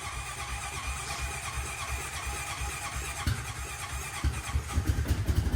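A Honda Foreman 520 ATV is cranked on a cold day, with a whirring starter and squealing engine turning over, then uneven sputters and bursts as it catches, loud and close.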